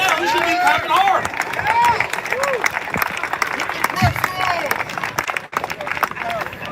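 A crowd at an outdoor reparations rally claps and applauds steadily, with dense hand-clap bursts and cheering voices throughout, briefly dipping near the end.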